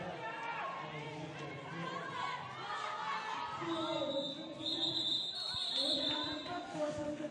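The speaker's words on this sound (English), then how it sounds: "A nice enthusiastic crowd this morning, too" A morning crowd cheers and chatters at a roller derby semifinal bout, with a busy, lively wash of voices, a few louder swells, and an announcer talking over the noise.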